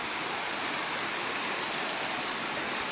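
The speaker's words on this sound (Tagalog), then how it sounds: "ganito talaga, baha dito lagi pag maulan" Floodwater rushes after heavy rain in a loud, steady, broadband roar of fast-moving water, close and unbroken, with no voices.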